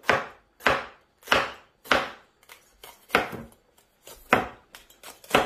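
A knife slicing a green bell pepper into rings on a cutting board, a series of crisp, evenly spaced chops close up, about nine cuts in five seconds, with no talking.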